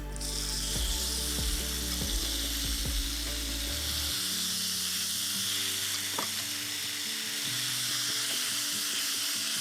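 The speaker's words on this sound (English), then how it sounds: "If you get that sizzle, you're ready to go." Steady loud sizzling of a chicken fajita mixture frying in a hot pan, with a few scraping clinks of a utensil against metal near the start.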